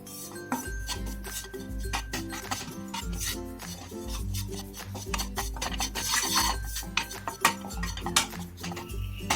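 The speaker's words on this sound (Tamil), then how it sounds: "இந்த மைதாவை இந்த பட்டர்லயே கொஞ்சம் ஃப்ரை பண்ணிக்கலாம்." Maida flour frying in butter in a pan, stirred with a metal utensil: steady scraping and clinking strokes against the pan over a low sizzle, with background music throughout.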